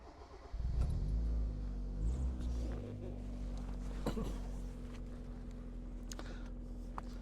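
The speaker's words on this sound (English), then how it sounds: "Love the exhaust note of these cars" A 1994 Mazda Miata engine rumbles steadily with a low, throaty exhaust note, rising at the start as the car pulls away, heard from inside while driving.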